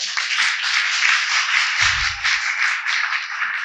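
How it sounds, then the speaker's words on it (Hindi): Dense applause from an audience at a Hindu New Year (Vikram Samvat 2083) "Know India" program, a steady wash of many hands clapping at once for the full stretch, with a brief low rumble midway. "जरा ताली तो बजाइए"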